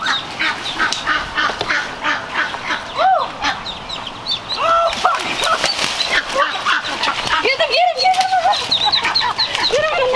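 Muscovy ducks being caught near a laundromat make busy honking, hissing and squawking calls with flapping and scuffling close by, while people talk intermittently underneath.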